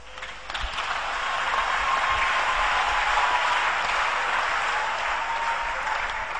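Steady applause and cheering from a church congregation during a French-language sermon, a dense continuous wash of clapping that holds evenly for several seconds without speech.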